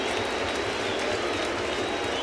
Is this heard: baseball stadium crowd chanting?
yes